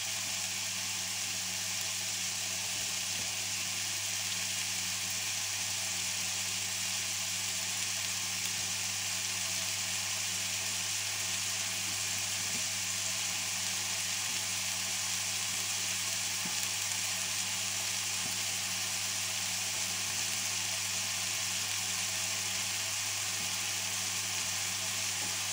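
Bacon lardons and onions fry in a pan, giving a steady, even sizzle that holds for the whole stretch with no pauses and no voices.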